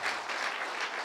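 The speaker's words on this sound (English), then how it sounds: "Can we just give our moms another hand?" A church congregation claps together in a brief, dense burst of steady applause, moderately loud and without talk over it.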